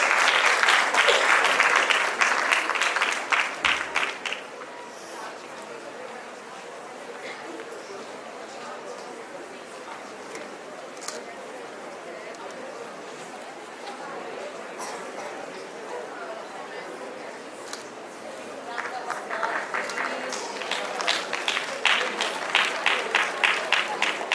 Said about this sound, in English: Please, ladies and gentlemen, give them a big round of applause